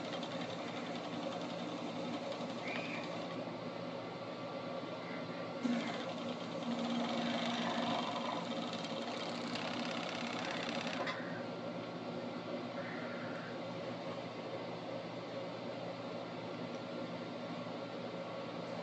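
Sewing machine stitching a corset vanity panel, a continuous mechanical hum and whirr that runs steadily for the whole stretch, close up with no talk.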